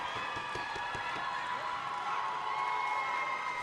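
Crowd noise at the Canadian National Dodgeball Championships, a steady bed of cheering and shouting voices in a gym with sharp thumps and claps scattered through it, holding at a constant level throughout.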